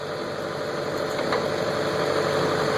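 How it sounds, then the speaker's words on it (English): A truck's refrigeration unit (reefer) engine runs steadily and loudly nearby at a fuel stop, giving a constant droning hum with a faint rattle. "sorry about the noise. It's a reefer."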